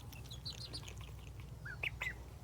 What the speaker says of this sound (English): so we picked up some more ducks